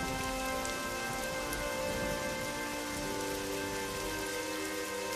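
Heavy, cold rain pours steadily onto a flooded road, a dense continuous hiss of drops on wet surfaces that stays loud and unbroken throughout, with no voices.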